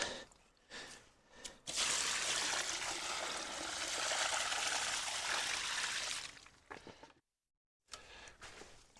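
Water pours steadily onto soil around a freshly transplanted shrub in a garden bed, a continuous close rushing that stops abruptly, with faint ticks and shuffles before and after.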